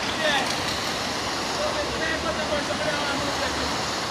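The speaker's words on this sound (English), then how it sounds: "Lots of water running, coming from Walton Park Road down Greater Green" Heavy rainwater rushes along a residential street during rain, a steady broadband wash of running water that stays constant throughout, with faint voices in the background.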